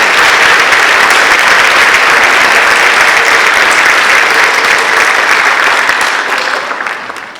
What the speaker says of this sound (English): let's give one more round of applause for all of our top performers